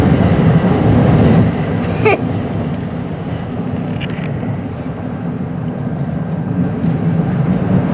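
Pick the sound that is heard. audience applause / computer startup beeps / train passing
train passing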